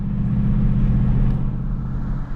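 Deep, steady exhaust burble of a Mustang Mach 1 idling along at low revs through perforated 4-inch exhaust tips, a constant throaty rumble up close.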